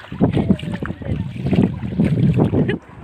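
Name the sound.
vehicle driving through knee-deep floodwater, splashing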